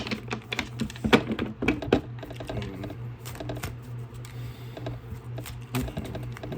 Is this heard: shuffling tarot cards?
yes